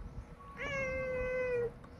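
A cat gives one clear, sustained meow at close range, steady and tonal for about a second, with no talk in the background.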